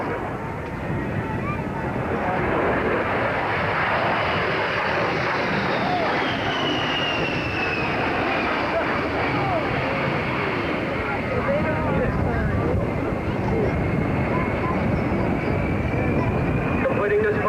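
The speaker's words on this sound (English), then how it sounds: "will demonstrate the rolling capability of the A-10" An A-10 jet performs a rolling demonstration at the 1988 Lafayette air show, making a loud, sustained roar with a slowly shifting whine that fills the whole stretch, with a distant voice under it.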